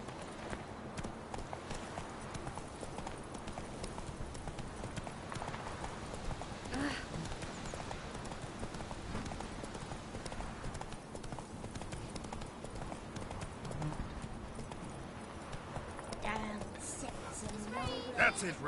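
Roach, a horse in The Witcher 3 game, gallops in steady rhythmic hoofbeats throughout, a continuous clip-clop over a dense ambient bed, with a voice speaking at moments.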